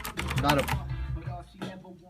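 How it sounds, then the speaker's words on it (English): Rapid clicking of keys on a mechanical keyboard, a busy burst of typing up front that thins out to scattered taps, fairly close. "So with that going and me typing away, it's really not that issue."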